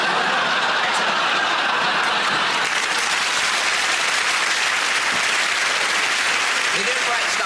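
Studio audience applause during a comedy sketch show, a dense, continuous wash of clapping at full level throughout, with faint laughter mixed in.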